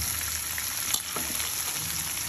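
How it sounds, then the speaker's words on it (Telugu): Chopped onions frying in a hot pan for spring onion dal, a steady close sizzle with faint stirring scrapes and no voices. "ఇప్పుడు ముందుగా కట్ చేసి పెట్టుకున్న ఉల్లిపాయలు అండి ఇలా యాడ్ చేసుకోండి"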